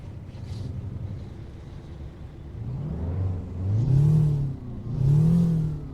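A Detroit Diesel engine in a simulated Kenworth Needle Nose truck from American Truck Simulator idles low, then revs up in three rising and falling swells that grow louder toward the end, with no talking.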